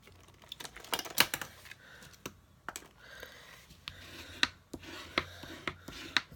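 Bone folder pressed and rubbed along a crease in Whisper White cardstock, a series of close, faint scraping and tapping strokes in an uneven rhythm.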